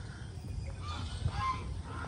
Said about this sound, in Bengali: এই যে এখানে প্রয়াসের কিছু রাজা হাঁস দেখতে পাচ্ছেন